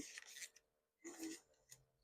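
Pen scratching across paper to cross something out, several quick raspy rubbing strokes in short bursts, quiet and close.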